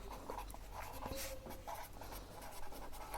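Pen or marker writing on a board or paper during an accounts class, a quiet continuous scratching with short strokes for a few seconds.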